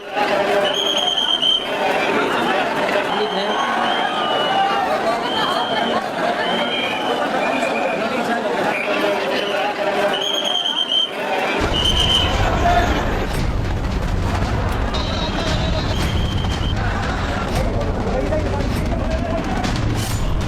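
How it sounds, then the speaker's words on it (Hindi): A heavy crowd packs Surat railway station while people try to board a train. Dense, loud babble of many voices mixes with shuffling and station noise, and a deeper rumble joins partway through. "सूरत रेलवे स्टेशन की तस्वीर आप देख रहे हैं, ये भारी भीड़, जिसे ट्रेन में चढ़ना है"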